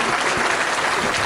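Brief burst of audience applause at a film festival podcast event, dense and steady throughout, filling the space evenly without a clear start or end.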